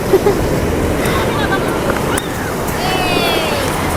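Big ocean waves at Pandan beach in Carita, a loud continuous wash of surf with wind buffeting the microphone and faint voices in the background.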